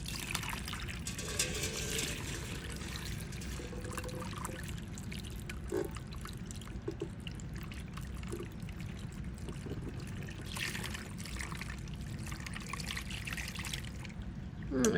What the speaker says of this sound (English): I'm gonna pour our brine over top.